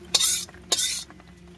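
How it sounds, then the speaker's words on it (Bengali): Hot tempering spices with asafoetida are poured over a vegetarian South Indian soybean curry and stirred, two loud sizzling bursts each trailing off, followed by quiet utensil clinks. "দিয়ে দিচ্ছি উপর থেকে তড়কা মশলাটা।"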